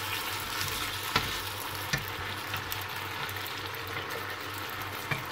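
Tomatoes sauté in a pan with a little sugar and pepper, giving a constant close sizzle broken by a few faint clicks of stirring.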